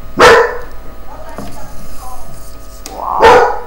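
A dog in the video game Minecraft gives two loud barks about three seconds apart, with quieter game sounds and faint rustling between them.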